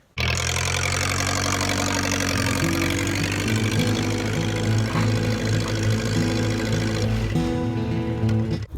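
A vintage tractor engine idles outdoors near an old Dearborn plow, a loud, close, steady low rumble with an even throbbing beat that holds for most of the stretch before dropping away at the end.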